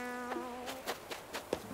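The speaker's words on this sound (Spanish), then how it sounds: "Mira, ahí hay una abeja." A bee buzzing in the video game Animal Crossing: New Horizons, a soft wavering drone with small pulsing swells, faint and alone.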